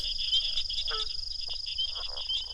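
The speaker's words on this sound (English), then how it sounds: "The higher-pitched chirps are spring peeper frogs, and the honks are leopard frogs." Frog chorus at a pond in Mississippi, with high-pitched spring peeper chirps repeating steadily over a dense insect-like trill and lower leopard frog honks cutting in a few times, continuous and moderately loud.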